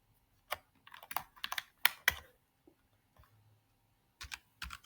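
Typing on a computer keyboard during an HTML and CSS coding session: irregular bursts of close, crisp key clicks separated by short pauses, with no talk over them.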